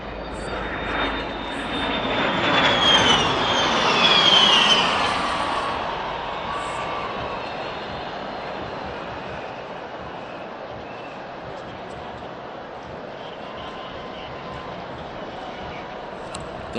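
A de Havilland Vampire jet roars past at an outdoor inauguration ceremony flypast, swelling loudly over the first few seconds and then fading into a long, distant rumble.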